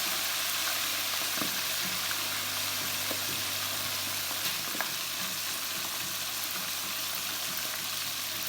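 Chicken for Lahori chargha frying in hot oil over a medium-to-low flame, a steady soft sizzle with scattered small pops and crackles, moderately quiet, no voices.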